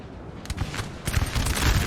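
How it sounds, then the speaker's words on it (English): Artillery fire in a Napoleon Total War 4v4 battle: a run of rumbling, booming blasts that start faintly and grow denser and louder toward the end, with no talk. "Oh, you got artillery."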